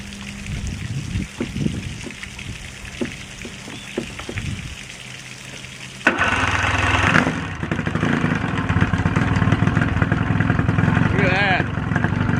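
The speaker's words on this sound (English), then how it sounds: "First time in 2 years it fired right up." An old Mercury Force outboard motor on a bass boat fires up after two years idle and settles into a loud, steady running drone, following a few clanks and short taps beforehand.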